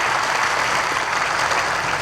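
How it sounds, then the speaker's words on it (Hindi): Audience at a Shiv Puran religious discourse in Ujjain breaks into loud, sustained applause, dense clapping from a large crowd continuing evenly throughout with no talk. "जरा एक बार जोरदार ताली बजाइए"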